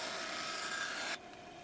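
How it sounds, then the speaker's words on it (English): Bandsaw blade cutting a mahogany pattern blank, a loud steady rasping hiss of wood being sawn that drops off abruptly as the cut ends, leaving the machine humming more quietly. "Moving over to the bandsaw, each of the 3 tracings gets cut into individual pieces."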